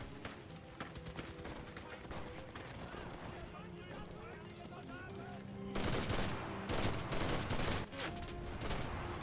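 Bursts of gunfire ring out in Enlisted, a World War II game set in the Battle of Berlin. Scattered shots come first, then a loud, rapid fusillade, with a voice talking over parts of it.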